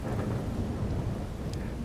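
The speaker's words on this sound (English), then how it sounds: "Ooh, thunder." Thunder rumbling during a rainstorm by the sea, a deep continuous low rumble over the hiss of heavy rain, fairly faint and distant.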